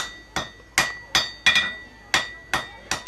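A hammer strikes hot steel on an anvil in seven sharp, ringing blows at a steady, unhurried pace, each clang bright and metallic and fading quickly, with no speech.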